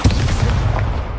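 Incendio fire spell cast in Hogwarts Legacy on PS5, a single loud, booming burst with a fiery roar that fades over about a second.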